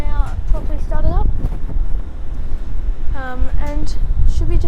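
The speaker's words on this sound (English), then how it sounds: "Engines are now properly started up." Turboprop engines of a QantasLink Dash-8 Q400 idle after start-up as a steady low cabin drone and roar beneath a cabin announcement voice.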